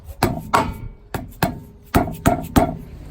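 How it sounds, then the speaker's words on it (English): Seven sharp, heavy hammer blows striking a wheel stuck for ten years, at uneven intervals, close and loud, each with a short metallic thud and brief decay. "we're going to try to just hit it with a hammer a little bit"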